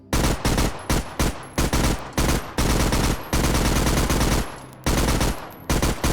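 Loud, close weapon gunfire in a VR test chamber with a hit force testing system: a long run of rapid, booming shots in short repeated bursts separated by brief gaps, dense and continuous without any talking.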